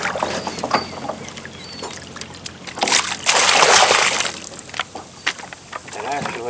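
Sample bottle rinsed in a shallow stream: water sloshes and gurgles in bursts, swelling to a loud rushing pour midway before settling into trickles, close to the microphone with a voice speaking at times.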